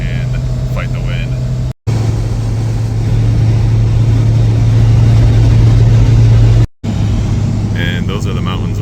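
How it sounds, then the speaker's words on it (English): A 1991 Honda Civic RT4WD wagon engine drones steadily at highway speed against the wind, a loud, close, constant low hum with road roar. The sound cuts out briefly twice, and faint talk comes in at the edges. "it's taking a lot for the poor car to keep up with highway speeds and fight the wind"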